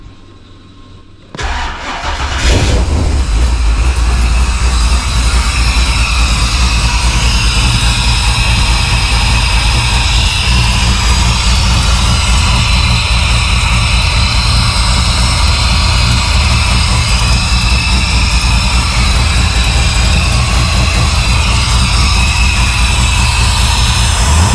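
A supercharged Holden VL Calais with a Harrop 2300 blower, fouling plugs and four coils not working, cranks and fires after a brief quiet start, then holds a loud, steady, slightly uneven rough idle close by for the rest of the clip.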